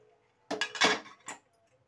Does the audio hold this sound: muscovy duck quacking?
no